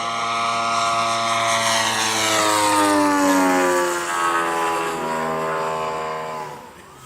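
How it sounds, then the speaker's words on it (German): A Zlin 50 model airplane at a Bayreuth flying show passes low and inverted on throttled engine, its propeller drone rising and sliding down in pitch as it flies by, loud then fading. "Tiefer Überflug in Rückenlage. Und das noch mit gedrosseltem Motor"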